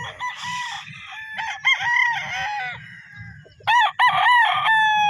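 Claret and kelso gamefowl stags on a farm crow repeatedly, several loud cock-a-doodle-doo calls overlapping nearby, with fainter clucking and low background noise beneath.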